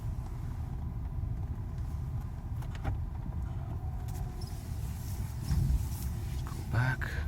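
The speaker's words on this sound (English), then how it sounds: "let's just drive down the street real quick" Mercedes SL500 with a repaired electronic throttle driving down a street, a steady low road and engine rumble running throughout with brief interior clicks and rattles, heard from inside the car.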